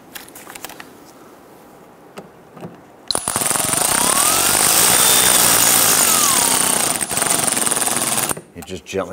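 Power screwdriver running steadily for about five seconds, loud and continuous, driving screws into plastic molding on a 2011-2019 Ford Explorer during an AC condenser replacement, with quieter handling noises before and after.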